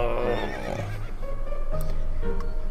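A horse neighs in the video game To the Moon, a loud, close whinny with a wavering pitch, followed by a few softer clip-clops of hooves.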